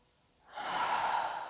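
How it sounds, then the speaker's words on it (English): A deep breath during a yoga breathing exercise, starting quietly and swelling into a steady, close airy rush that holds for about a second with no talk over it. "One more breath here."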